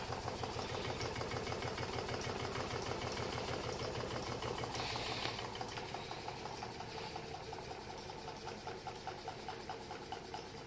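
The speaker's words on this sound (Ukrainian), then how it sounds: "Дана модель двигуна Стірлінга виконана у гамакомпонуванні." A small two-cylinder gamma-configuration Stirling engine with a wooden-wheel transmission drives a generator, giving a steady, fast mechanical knocking hum that runs continuously and fairly faintly, with no voices.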